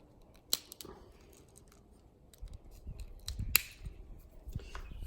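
Scissors snip Stihl FS38 trimmer line close up, a few sharp distinct cuts spaced apart amid quiet handling noises.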